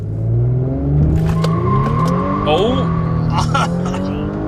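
An Audi B9 S4 with a stage 1 tune launches hard on the road, its engine roaring up through the revs with tire-spin squeal and a short exclamation from someone inside.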